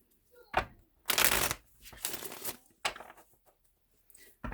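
Tarot cards are shuffled in several quick bursts of riffling and flapping, separated by short pauses, heard up close.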